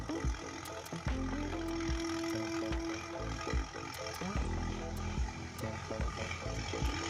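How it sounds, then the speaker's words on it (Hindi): A large tractor with a super seeder sows wheat in a field, its engine droning steadily and fairly close with a continuous low rumble and mechanical clatter, while someone talks over it. "देखिए कितना बड़ा ट्रैक्टर है, उसकी भी आवाज अलग से ही"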